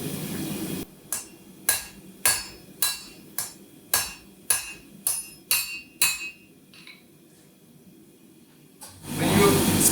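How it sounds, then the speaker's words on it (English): Master blacksmith in Prague hammering hot forged steel on an anvil: about a dozen sharp, ringing blows at a steady rhythm, close and loud, followed by a pause and then a burst of roaring noise. "When you smash a metal, the metal wants to go away from the hammer."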